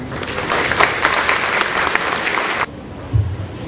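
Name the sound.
audience applause welcoming a speaker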